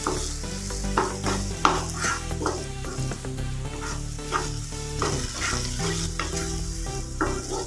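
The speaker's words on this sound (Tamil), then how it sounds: "இப்போ இதை 2 நிமிஷம் இந்த எண்ணெயிலே வதக்கிக்கலாங்க." Capsicum and tomato sauté in hot oil for capsicum rice, a steady loud sizzle broken by repeated scraping stirs of a spoon against the pan, with no talking.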